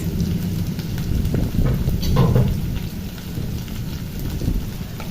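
Potatoes, carrots, pumpkin and other vegetables sizzle in hot oil in a pan while a cauliflower-stem chorchori is cooked, making a steady, close crackling hiss with no voices.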